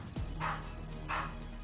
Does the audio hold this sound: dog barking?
yes